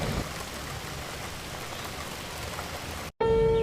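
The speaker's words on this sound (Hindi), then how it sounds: "लेकिन बाहर अभी भी स्टिल बारिश हो रही है" Steady rain falls outside on a wet day, a continuous dense hiss with no voices, which cuts off abruptly near the end and gives way to a brief different sound.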